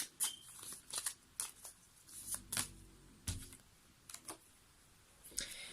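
Playing cards being shuffled in short bursts of riffling and flicking, separated by pauses, fairly quiet and close with a slight room hum.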